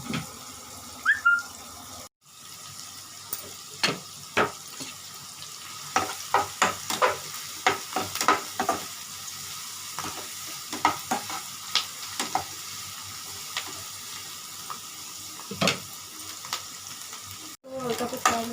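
Bread pakora filling is stirred and fried in a pan, with a gentle sizzle under a run of sharp, irregular spoon scrapes and clacks against the metal, close and distinct.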